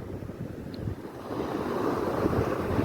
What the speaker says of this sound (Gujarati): દરિયાની અંદર કેટલું તોફાન છે